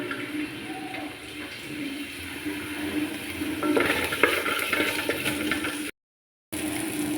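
Sliced onion and green chillies sizzling in oil in a pan for a carrot stir-fry, a steady close frying hiss with light stirring scrapes and a brief dropout near the end.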